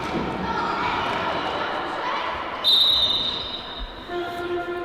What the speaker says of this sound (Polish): Mamy kolejny gwizdek sędziego